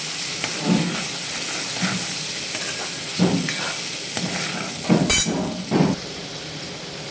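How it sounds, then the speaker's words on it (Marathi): Misal pav masala ingredients are stirred and sautéed in hot oil, giving a steady close sizzle with a few louder scrapes and stirring knocks. "चांगलं तेल सुटेपर्यंत 2 ते 3 मिनिट आपण याला चांगलं परतून घेणार आहे."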